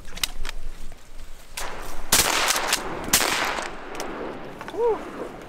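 Two sharp shotgun blasts, about a second apart, ring out across a public marsh in Nebraska during a teal duck hunt, with quieter outdoor sounds and a brief call afterward.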